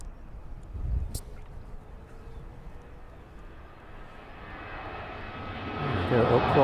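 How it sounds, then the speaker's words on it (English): Airliner departing runway 27 at East Midlands Airport on an evening flight to Palma, engine noise starting faint and distant and swelling steadily louder toward the end, with a brief knock near the start. "Let's catch the departure of that service to Palma this evening though."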